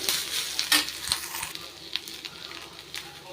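Vallarai (pennywort) leaves sauté in a hot pan for a chutney, a steady close sizzle broken by scraping, patting stirs.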